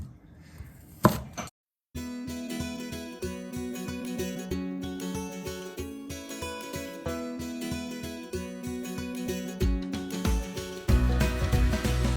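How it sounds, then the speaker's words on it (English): A knife chops cabbage into pieces for homemade sauerkraut, with rapid, regular blows striking the cutting board close by after a brief pause, then continuing steadily and growing louder near the end. "now we're gonna cut this into pieces"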